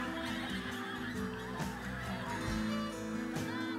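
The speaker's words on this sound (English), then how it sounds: "in winter, take in the awesome spectacle of thousands of pink-footed geese arriving" Pink-footed geese calling at a wetland mere in winter; a dense chorus of overlapping honks and cackles from many birds, continuous and fairly loud, with some individual calls standing out nearer.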